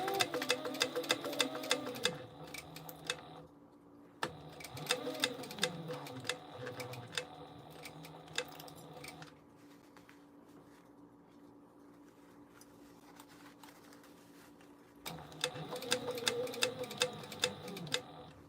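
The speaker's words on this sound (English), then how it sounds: "we're just going to back stitch at the beginning and the end" A sewing machine back stitches at the start and end of a seam, running in close rapid stitching bursts that stop, pause with low background hum, and start again.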